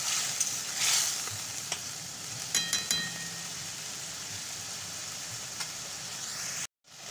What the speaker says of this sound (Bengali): মশলাটা আর আলুগুলো ভালো করে নাড়িয়ে নিচ্ছি।